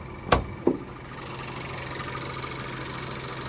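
Two sharp knocks, then the petrol engine of a 2013 Seat Leon hatchback idles with a low, even hum, close and fairly quiet.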